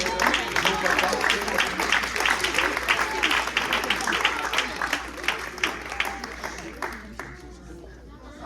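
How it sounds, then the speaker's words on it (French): A church congregation at a Father's Day service claps for the fathers: a lively, dense round of many hands with a loose rhythmic pulse, voices mixed underneath, thinning toward the end as the clapping trails off. "Battons nos mains pour nos papas"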